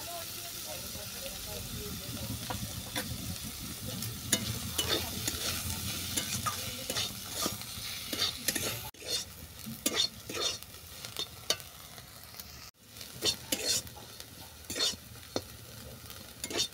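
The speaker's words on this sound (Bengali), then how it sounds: "দেখো সমস্ত উপকরণ সুন্দরভাবে ভাজা হয়ে গেছে" Ingredients for a thor and pui-leaf mitul dish fry in a pan with ground turmeric while being stirred, a steady sizzle broken by repeated scraping strokes of the spoon, close and moderately loud, with some brief voice sounds.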